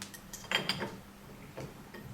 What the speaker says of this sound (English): So you can see how I'm unscrewing that in the clockwise direction.